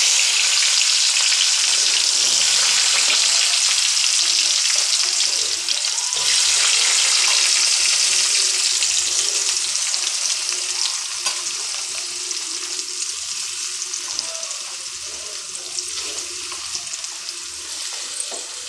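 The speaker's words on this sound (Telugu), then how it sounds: "ఇందులో ఇప్పుడు ఉల్లిపాయ ముక్కలు వేసుకుందాం." Onion pieces fry in a pan with a loud, steady hiss and crackle. The sizzle is close and continuous, fading slightly toward the end, and no one speaks over it.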